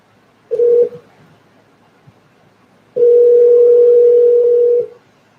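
Landline telephone handset tone: a short steady beep, a pause with faint room noise, then a longer continuous tone of about two seconds, loud and close with no voices.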